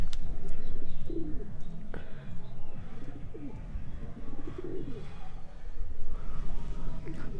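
A pair of pigeons coo inside a cage, repeated low throaty calls close by over a steady rustling background, with a voice faintly underneath.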